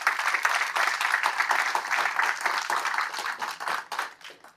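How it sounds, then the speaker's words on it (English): An audience at a pipe show claps together in a dense, even burst of applause that holds steady, then thins into scattered separate claps near the end. "So give them a round of applause, please."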